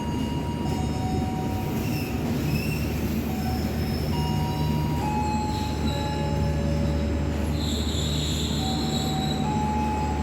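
An Indonesian Kamandaka passenger train on the Semarang–Cilacap line sounds long tonal horn blasts over loud, continuous rail rumble and high squealing wheels.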